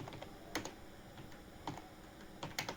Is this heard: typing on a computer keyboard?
yes